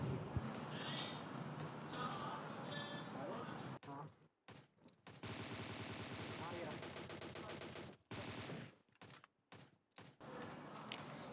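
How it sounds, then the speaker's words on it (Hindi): Automatic rifle gunfire in the PUBG battle royale game cracks in fast, loud bursts with abrupt gaps between volleys, set against other dense game sounds. "यहाँ पे फायरिंग हो रही होती है"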